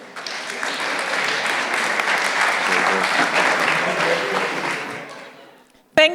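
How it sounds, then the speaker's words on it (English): A conference audience applauds a speaker introduced at The Museum of the Future 2026 event on AI for heritage and archives, steady dense clapping that swells, holds for several seconds and fades, followed by a brief voice. "please a very loud applause for Heleen Wilbrink."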